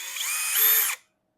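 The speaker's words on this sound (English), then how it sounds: "I'm repping the Milwaukee drill impact type drill." A Milwaukee impact drill runs while removing screws from a wooden nightstand, a close, steady high-pitched whine that rises slightly before stopping abruptly into silence.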